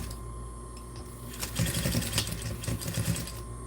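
A sewing machine stitches fabric at close range, running in quick rhythmic bursts for about two seconds after a quiet start.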